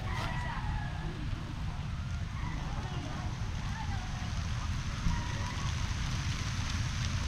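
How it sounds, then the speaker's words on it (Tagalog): Steady rain hissing and pattering on a surface, a continuous wash of noise close by, with no voices over it. "Ayun ang ulan."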